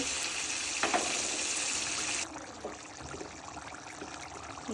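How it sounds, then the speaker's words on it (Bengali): Water poured into a pan of katla fish curry cooked with plenty of tomato: a loud, steady gushing pour for about two seconds, then it cuts off, leaving a quieter bubbling simmer. "এখন রান্না করার জন্য ঝোল দিয়ে দিব"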